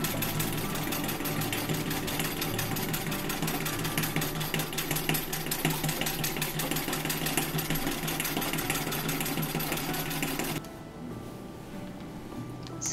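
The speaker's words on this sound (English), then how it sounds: "I'm actually going to quilt one of the skirt pieces entirely on the treadle machine." A treadle sewing machine quilting a skirt piece hums with a fast, even mechanical clatter for about ten seconds, then slows and quiets to a softer tail.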